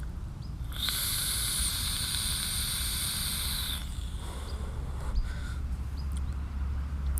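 An e-cigarette atomizer dripped with blueberry liquid crackles and hisses steadily as it is vaped, with a brighter sizzling band for a few seconds and a low background hum throughout.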